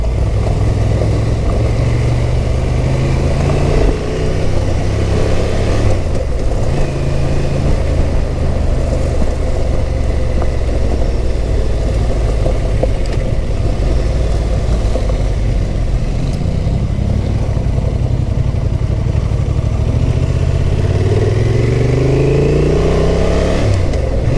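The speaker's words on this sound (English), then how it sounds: "Let the bike do its work." A Honda Transalp motorcycle rides off road on wet ground at an adventure bike festival, its engine note steady and loud throughout with rising and falling revs as the rider works the throttle, and no talk.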